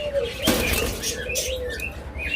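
Green forpus parrotlets at a bird seller's stall give bright chirps and flutter their wings, with a burst of flapping near the start and steady twittering and rustling after it, close by and fairly loud.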